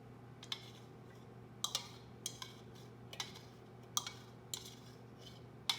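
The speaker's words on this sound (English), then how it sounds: "put the melted butter into the bowl" Melted butter is tipped and scraped from a container into a mixing bowl, giving faint, irregular clinks and scraping taps of utensil on bowl against a low background hum, with no talking.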